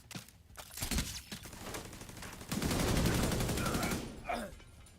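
Turret gunfire in a video game, dense rapid bursts of automatic shots that build into a sustained loud volley before trailing off, with a voice talking briefly.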